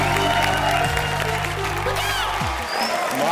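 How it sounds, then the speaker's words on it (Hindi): Studio audience applause on a Hindi television comedy show, clapping and cheering rising under music and voices, fairly loud and continuous. "इनके लिए तालियां बजा दो।"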